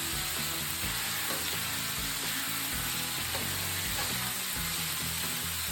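Venison sizzles and fries steadily on a Blackstone griddle, a constant close, broadband hiss with occasional light scraping, and no talking over it.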